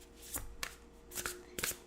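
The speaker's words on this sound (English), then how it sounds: "Let's begin by giving the cards a shuffle" A deck of cards being shuffled, probably tarot or oracle cards for a reading, in three quick riffling bursts with short pauses between them, close and fairly loud, with no talk.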